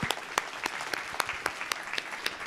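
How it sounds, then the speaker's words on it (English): Audience applause for a panel at the close of a discussion event, a moderate round of clapping with scattered sharp individual claps standing out over a softer continuous patter. "Let's have a great round of applause for our panel."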